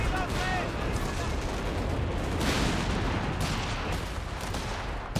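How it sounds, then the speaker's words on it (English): Artillery barrage in Company of Heroes 3, a dense, loud rumble of overlapping booms and gunfire running continuously throughout. "We've got Bishop and Scott's barraging."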